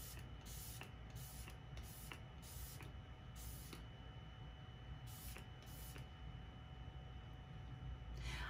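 A setting spray misted onto a face, coming as a series of short, sharp hissing spritzes in an uneven rhythm, close and fairly quiet with no voice present.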